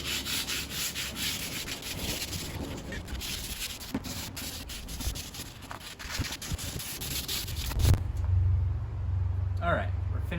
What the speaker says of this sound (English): So we have our 80 grit sandpaper here from our wood maintenance kit, and we'll go ahead and sand down our stock.